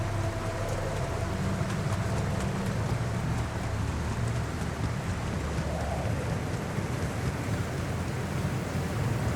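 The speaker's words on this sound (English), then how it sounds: "But I mean, obviously it is raining." Steady, dense rain falls in the video game The Alters, a continuous hiss with occasional low rumbles, filling the scene without a break.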